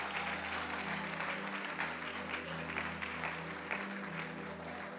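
Church congregation clapping together during a Spanish-language worship service, a steady dense wash of applause held for the full stretch at moderate loudness, with a faint hum of the room beneath.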